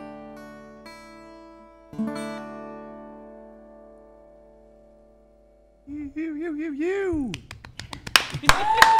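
Sustained notes from a live performance of a country-style song ring out and slowly fade. A voice then talks, and a few sharp hand claps from a small audience close the moment.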